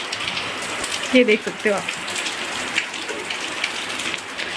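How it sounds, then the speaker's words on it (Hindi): Heavy rain pours down outside a village home in Himachal, a steady, dense hiss of drops on surfaces, while someone speaks briefly over it. "बाहर फिर से इतनी भयानक इतनी जोर की बारिश पड़ी हुई है"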